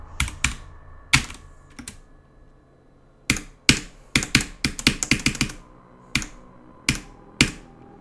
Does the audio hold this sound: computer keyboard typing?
yes